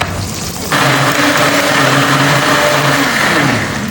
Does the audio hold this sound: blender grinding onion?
yes